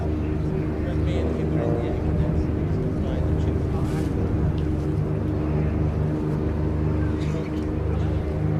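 An Xtremeair XA42 two-seat aerobatic aircraft performs a flying display at Abingdon airfield, its engine producing a steady, loud droning hum that holds throughout, with a commentator talking over it.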